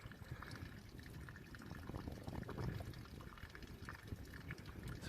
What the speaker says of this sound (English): Dripping out from under this tree.